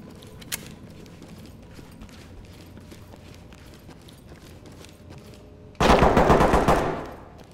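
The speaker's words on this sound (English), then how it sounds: "They're shooting through the bamboo." Gunfire in the tactical shooter Ready or Not, with shots fired through bamboo: a faint pop early on, then a loud, sustained burst of rapid automatic fire near the end that fades out.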